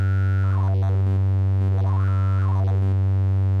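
A Richter Megawave oscillator in a modular synth rig gives a loud, sustained buzzy drone with a wavering, sweeping upper tone that rises and falls twice, without any talking.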